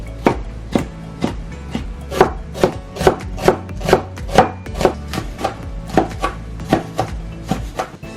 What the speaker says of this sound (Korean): 떠먹기 좋게 적당한 크기로 채 썰어 주시면 되겠죠?